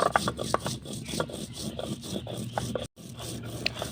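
Dried shrimp and chillies for a Bangladeshi shutki bharta ground by hand on a stone, with steady rhythmic rubbing and scraping strokes close by, fairly quiet, with no talk.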